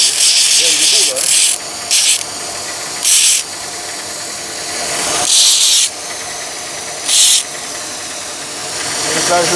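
A knife blade is polished against metal, giving a continuous hissing, rasping scrape with repeated brighter bursts as the stroke pressure changes, loud and close.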